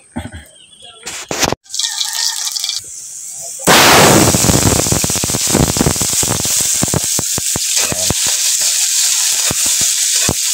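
Eggs for egg adobo cooking in a frying pan give off a loud, close, crackling sizzle full of sharp pops that starts abruptly and keeps going after some brief clattering at the beginning.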